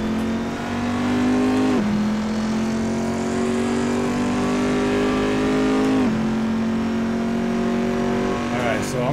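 A car engine revs loud and close in the Assetto Corsa driving simulator game, a steady sustained drone that drops twice as gears shift, with a voice talking over it.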